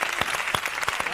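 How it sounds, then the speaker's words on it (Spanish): A studio audience breaks into steady, dense applause for Carmen Sevilla, a continuous crackle of many hands filling the whole short stretch with no voices on top. "Fuerte aplauso."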